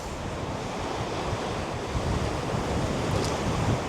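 Steady, loud roar of wind buffeting the microphone over continuous crashing sea waves at Cullen beach, Scotland, with no voices.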